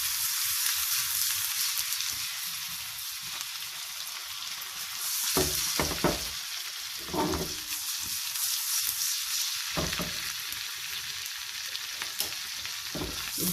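Half a chopped tomato sizzles in a hot oil tadka for a rajma dish, a steady close crackle and hiss with intermittent stirring scrapes and small spatters over roughly fourteen seconds, with no talking.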